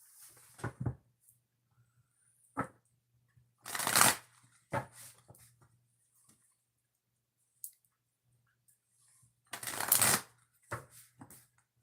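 Cards being shuffled in several separate bursts, each a quick riffling rush, with gaps of near silence between them and a few light taps.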